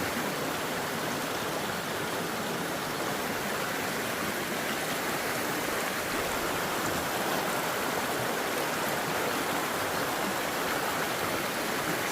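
Continuous rushing and babbling of a river beside a farm lot in Siniloan, Laguna, steady and close, with no voices or other sounds over it.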